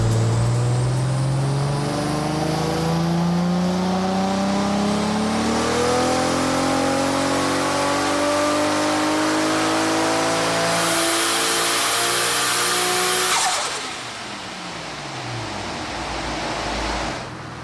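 A turbocharged V8 tuned import car at the Eastern Creek track revs loudly, its engine note climbing steadily through acceleration before a sharp cutoff and a lower, settling drone.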